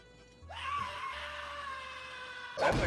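A Rabbid from Rayman Raving Rabbids lets out a long, high wavering scream that holds for about two seconds, followed by a brief louder burst of noise at the end.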